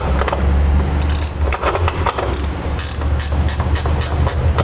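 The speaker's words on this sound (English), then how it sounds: "We can tighten that down with the ratcheting wrench." A ratcheting wrench tightening a bracket for a B and W gooseneck trailer hitch on a 2007 Toyota Tundra, quick bursts of clicking ratchet strokes, close up over a low steady background hum.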